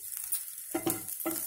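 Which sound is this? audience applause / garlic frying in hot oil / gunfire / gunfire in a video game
garlic frying in hot oil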